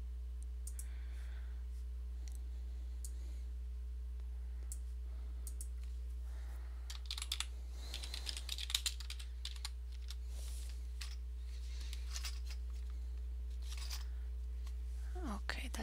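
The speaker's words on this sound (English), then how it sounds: "I can hear my typing." Rapid clicking of computer keys comes in bursts of typing, close but fairly soft, over a steady low electrical hum.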